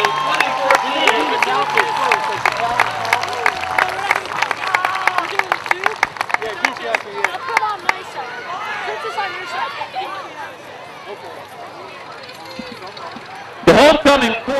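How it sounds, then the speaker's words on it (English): A crowd claps and cheers for homecoming contestants from the class of 2014 at a school event, sharp hand claps dense at first, then thinning into chatter and scattered cheers, with a loud burst near the end. "let's have a big round of applause"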